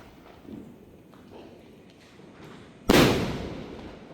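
A Diwali firecracker bursts with one sharp, loud bang that rings out and decays over about a second, following quiet outdoor background with faint scattered sounds.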